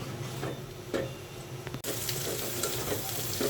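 Onion, green chili and garlic sizzling together in a hot pan after shrimp has been fried, a steady close frying hiss with brief stirring knocks and a louder surge partway through.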